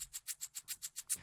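A shaker pattern with a triplet delay, alone and fairly quiet: eight evenly spaced bright, hissy shakes repeat in a steady swung groove across the bar, each with a soft echoing tail.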